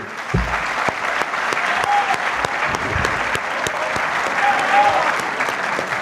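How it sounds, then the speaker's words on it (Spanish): Audience at a presidential debate in Honduras breaks into steady, sustained applause, a dense wash of many hands clapping evenly at close range for several seconds. "Ahora sí aplaudir"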